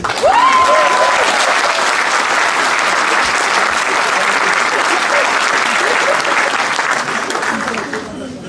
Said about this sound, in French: Applaudissements pour le professeur Agboul.